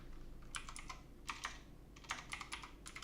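Quiet typing on a computer keyboard: short bursts of clicking keys, close to the mic, with brief pauses between the flurries and no voices.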